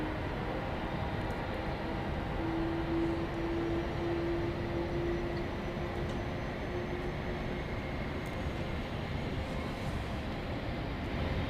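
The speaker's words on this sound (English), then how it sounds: "I hear a jet engine revving up." A steady, broad jet engine roar revs up at constant loudness at Dallas Love Field airport on a rainy morning, with a faint tone rising and fading in the middle, heard from a distance.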